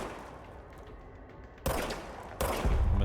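Gunfire from a weapon in the video game Control: two sudden loud bursts cut into a quieter ambient background, the second one sustained as rapid fire toward the end.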